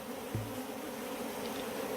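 African honey bees (Apis scutellata) drone steadily at an open hive during beekeeping in Nairobi, a continuous close buzz with one brief low thump near the start.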